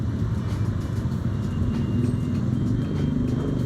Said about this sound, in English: while I'm waiting for the cars to go past